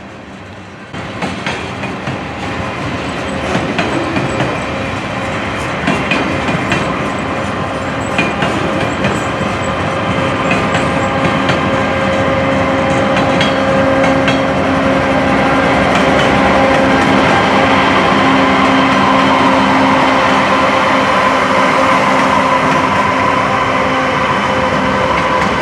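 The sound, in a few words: eastbound mixed freight train passing Amtrak station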